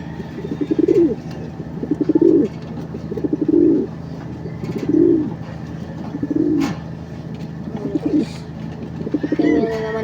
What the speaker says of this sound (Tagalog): meron din kalapati dito guys